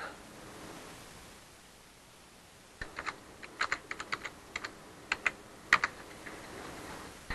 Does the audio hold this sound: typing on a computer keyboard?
yes